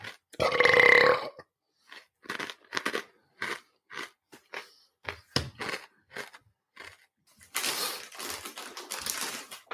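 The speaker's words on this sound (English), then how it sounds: "I realise I just burped and you're recording this" A loud, drawn-out burp opens, followed by scattered short clicks and crunchy taps, then a rough burst of noise near the end.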